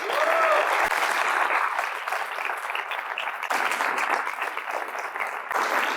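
A large audience claps loudly and continuously to welcome the monk Radhanath Swami onstage, a dense sustained applause that holds for several seconds with no talk over it.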